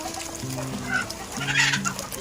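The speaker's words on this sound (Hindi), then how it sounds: "ये खुला एरिया है, यहाँ पे मुर्गी एकदम खुले में घूमती हैं।" Free-ranging chickens in an open poultry farm area cluck in short repeated bursts, fairly close, with faint background noise and no talking.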